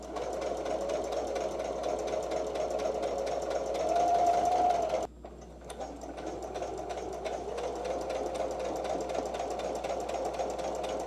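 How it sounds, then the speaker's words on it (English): A sewing machine stitches work pants, a rapid steady mechanical chatter that pauses briefly midway and then resumes at a similar pace, fairly close, with no talk. "let me be quiet and sew"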